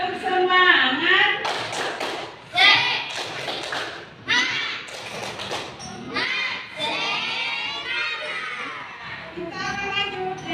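An elementary school class performs a 'tepuk semangat' spirit clap, with a series of loud, punchy claps and thumps mixed with children's voices and shouts.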